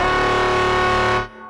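Heavy, distorted synth bass built from one saw wave and two sine waves, drenched in reverb, sustains loud and buzzing before cutting off sharply, leaving a brief reverb tail.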